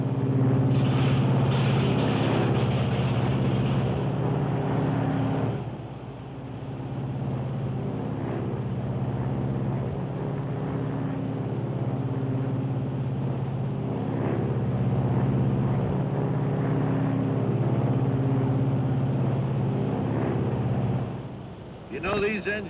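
Piston engines of a 1953 Lockheed Super Constellation airliner drone steadily in a loud cabin hum, with a brief dip near six seconds as an engine is unfeathered and comes back in; a voice talks over the engine noise.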